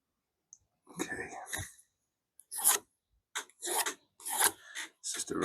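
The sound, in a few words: sanding wood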